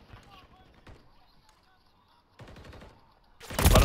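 Gunfire in a close-quarters multiplayer shooter game: scattered sharp shots early on, a dense burst around the middle, and a loud blast of firing at the end, with voices talking over it.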